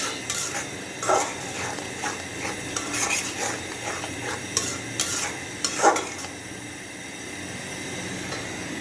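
A utensil scrapes and stirs a spice masala as it fries in a pan for a home-cooked chicken bhuna, with soft sizzling and irregular metallic scrapes close by, and no talking.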